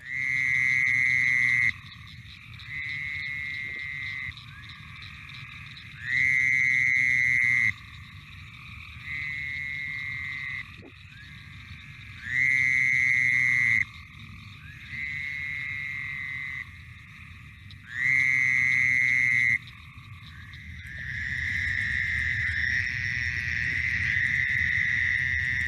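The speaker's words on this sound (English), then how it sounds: "that is our Fowler's toad" Fowler's toad from a wetland calls in four long nasal buzzing trills at regular intervals, loud and close, with a fainter continuous chorus of other calls in between and building at the end.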